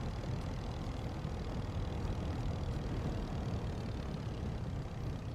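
The Klemm KL25D vintage light aircraft engine in Microsoft Flight Simulator 2024 runs as a steady, even drone with no change in pitch or loudness, heard alone.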